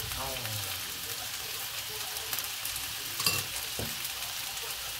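Potatoes stir-frying Korean style with sesame oil, a steady sizzle with a few scraping stirs and a clatter of the utensil against the pan.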